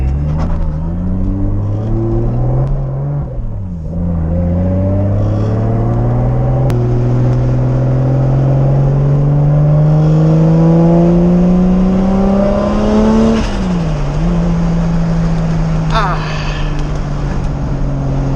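A single-turbo 550 hp Toyota Supra engine pulls hard from inside the car, its loud rising drone climbing through the gears with brief dips at each shift and a faint turbo whistle on top.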